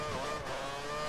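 A Formula 1 race car engine in the F1 2013 video game at the Singapore Grand Prix whines loudly and steadily through a brief slide, its pitch wavering slightly in one continuous, close tone.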